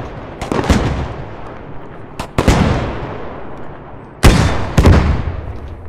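Gunfire in a video game: loud, sharp shots in irregular pairs and clusters, each with a long decaying tail. No voices over them.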